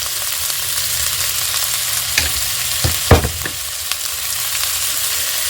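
Shidol chutney being stirred as it fries in a pan, a continuous hissing sizzle with a few scraping stirs around the middle, close and fairly loud with no talk.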